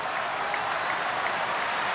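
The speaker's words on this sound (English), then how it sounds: "a big crowd here in Philadelphia, fully aware of what's going on, with a tremendous buzz in the ballpark trying to encourage their left-hander" Philadelphia ballpark crowd at a Brewers vs Phillies game applauds and buzzes steadily, a dense wash of clapping and cheering that encourages the Phillies' left-handed pitcher Hamels.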